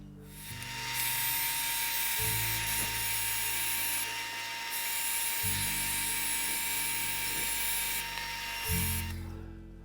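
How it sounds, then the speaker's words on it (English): Bandsaw cutting a rough blank of birch wood, its blade whining under a loud grinding rasp that rises and drops across several passes. "I always cut outside of the line with this bandsaw"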